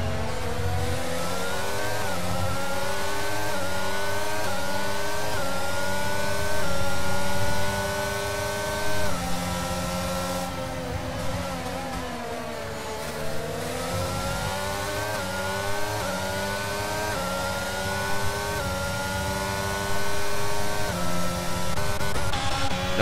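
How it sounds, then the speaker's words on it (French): A McLaren racing car in a racing video game exits a corner, its engine note rising through repeated upshifts with steady revving and whine, loud and continuous throughout with no talk. "Et là, on voit vraiment la sortie de virage de la McLaren."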